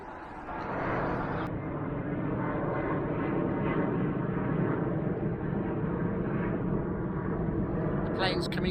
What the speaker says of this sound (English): Planes coming out from London City Airport